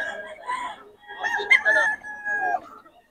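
A Sweater-bloodline gamefowl rooster crows loudly and close by in one long, drawn-out call, with people talking around it.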